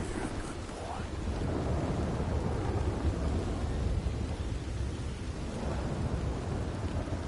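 Steady heavy rain pours throughout, with low rumbling thunder rolling beneath it; a dense, continuous storm ambience with no voices, in the video game Red Dead Redemption 2.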